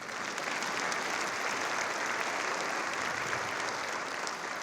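Crowd applause at the Greater Macon Chamber of Commerce State of the Community event, a sustained, fairly loud roar of many people clapping at once, continuous with no speech over it.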